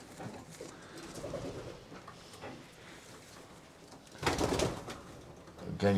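Pigeons coo in a racing pigeon loft in Belgium, soft throaty rolling calls repeating under the ambient noise of the loft, with a louder, closer burst of cooing and rustling near the end.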